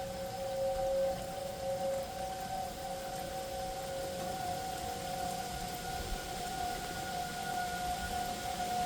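A civil defense siren sounds a steady, sustained wail during a tornado warning in Butler County. It is distant and continuous, with rain falling throughout.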